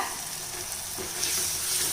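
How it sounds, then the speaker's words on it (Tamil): A spiced gravy seasoned with salt and coriander leaves, boiling in a pan with a steady, close, hissing bubble and sizzle that continues unbroken, with no voices. "இது நல்ல ஒரு கிரேவி கன்சிஸ்டன்சிக்கு வந்து கொதிக்க ஆரம்பிச்சிருச்சு"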